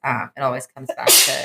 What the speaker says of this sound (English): sorry for sneezing, guys